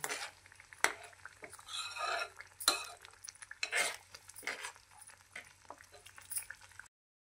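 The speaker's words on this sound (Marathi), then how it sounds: "गॅस बारीक करून चांगलं ह्याला 7-8 मिनिटं उकळून घेऊया" Maharashtrian egg curry gravy simmers on low gas, giving a quiet, steady bubbling with a few light utensil clinks and taps scattered through it.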